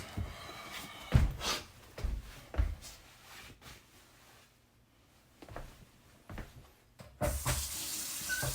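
A sink faucet is turned on in a kitchen after a garbage disposal replacement, water running and splashing faintly in uneven bursts with handling noises between.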